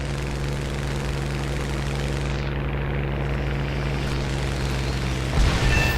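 Steady droning roar of propeller aircraft engines in War Thunder, a continuous loud hum, with a brief rumble near the end.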